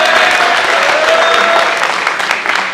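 Audience at a Punjabi stage drama breaks into loud, sustained applause, a thick wash of many hands clapping that holds steady before easing slightly at the end.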